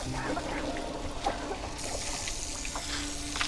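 Water splashes and trickles close by as a face is washed, a continuous running-water wash with small splashy accents and faint background noise.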